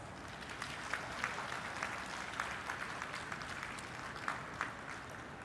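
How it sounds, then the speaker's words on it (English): An audience at a Bhoomi Puja groundbreaking ceremony applauds steadily, a broad wash of many hands clapping together, evenly sustained and moderately distant with no talking over it. "a very big round of applause"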